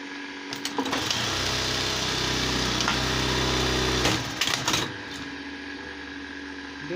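A Juki buttonhole sewing machine stitches a buttonhole in one fast mechanical run of about three seconds, close and rattling, then clicks and clunks as it stops, followed by quiet.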